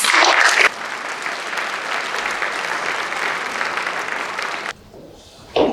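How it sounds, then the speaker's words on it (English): A conference audience at a first annual congress breaks into applause for a speaker welcomed to the stage, a sustained even clapping from many hands after a brief louder burst, then cutting off abruptly. "give her applause."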